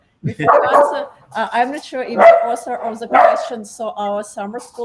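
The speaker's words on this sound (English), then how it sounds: "I'm sorry about my dog." A dog barks and yips several times in the background, partly masked by someone speaking continuously over it.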